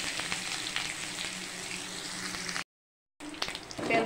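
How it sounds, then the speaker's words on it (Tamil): Dried red chilies, cumin, fenugreek and onion fry in hot oil in a kadai, a close continuous sizzle that cuts out for a moment and then resumes, with no talk. "எண்ணெய் ஊற்றினேன் கடாயில். காஞ்ச மிளகாய், சீரகம், வெந்தயம், காஞ்ச மிளகாய், கொஞ்சம் வெங்காயம் போட்டுக்கலாம்."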